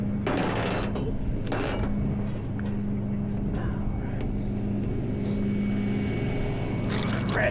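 Ratchet straps tightened on a downed Harley motorcycle, repeated clicking ratchet strokes and mechanical clatter over a steady low hum, fairly close.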